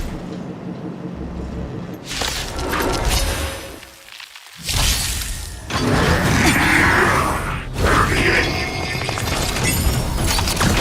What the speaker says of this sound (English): prepare yourselves for my heavy laser cannon